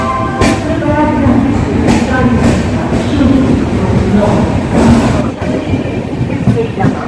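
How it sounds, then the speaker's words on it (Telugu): The Jaipur Secunderabad Express pulls out from platform 1 at Betul railway station, giving a loud, steady rumble with rhythmic wheel clatter and thumps throughout. "బేతుల్ రైల్వే స్టేషన్ నుండి ప్లాట్ఫారం 1 నుండి డిపార్చర్ చూడండి ఫ్రెండ్స్."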